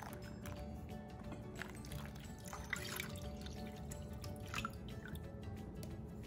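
Leftover water is poured into a pitcher of cooling coffee for agua fresca, a steady, close trickling and dripping stream that runs for several seconds without pause.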